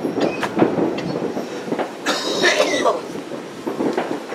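A person coughs several times at a New Year's party in Costa Rica, short harsh bursts near the mic over a rattling, rumbling background.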